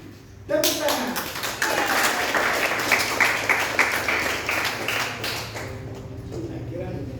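Applause breaks out after a request to clap, a dense rattle of many hands lasting several seconds, with talking over it.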